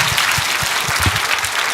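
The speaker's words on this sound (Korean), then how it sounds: "박수하겠습니다." A seated audience applauds with dense, even clapping that fills the whole short moment at close range with no voices over it.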